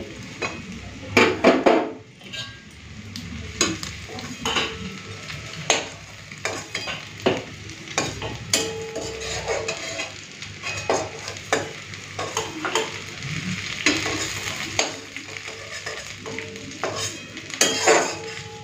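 Fish-fat fritters frying in oil as they are lifted out, with a constant close sizzle broken by repeated metallic clinks and scrapes of a ladle against the pan.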